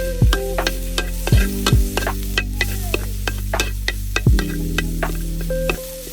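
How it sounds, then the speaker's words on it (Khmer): Pounded spice paste is stir-fried in fat for fried snail, with repeated scraping stirs of a utensil against the pan over a continuous close sizzle and no voices. "យើងឆាត្រឡប់ឡើងវាមានជាតិឈ្ងុយហើយយើងដាក់ម្ទេសឆ្អើរដែលយើងបានចិញ្ច្រាំមកបាញ់មិញហ្នឹងដាក់ចូលទៅរួចលីងវាចូលគ្នា"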